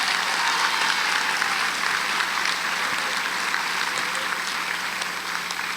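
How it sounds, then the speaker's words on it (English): Steady, dense applause from an audience at a Connecticut History Day awards ceremony, continuous and evenly loud throughout with no voices breaking through. "So let's give her a round of applause."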